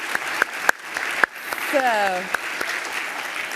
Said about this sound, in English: Come on, big round of applause for these two.